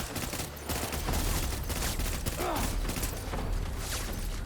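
Dense gunfire pours in from every direction in Death Stranding: a continuous barrage of overlapping shots and mechanical clatter, loud and relentless throughout.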